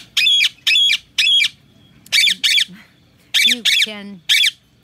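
An Indian ringneck parrot squawks outdoors in an aviary, letting out loud, shrill, close calls in short bursts of two or three, while a person speaks briefly.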